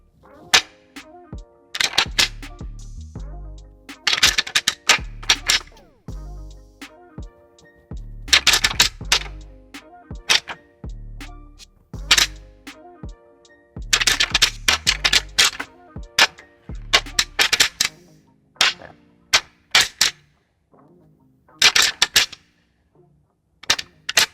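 Sharp clattering knocks in rapid bursts, pausing and resuming, as deer antlers are rattled and ground together to imitate two bucks fighting during the pre-rut; loud and close, no voices.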